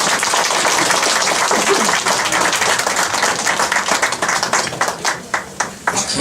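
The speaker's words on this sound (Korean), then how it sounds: "다시 한번 큰 박수로." Big round of applause from a church congregation, loud dense clapping close by that thins into scattered individual claps toward the end.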